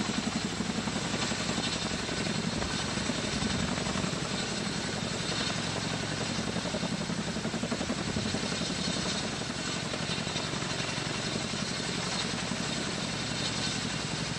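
Helicopter carrying the Dream Chaser space plane on a captive-carry flight, its rotor and engine roaring steadily and loudly as power builds, a dense continuous thump and whine with no voices over it.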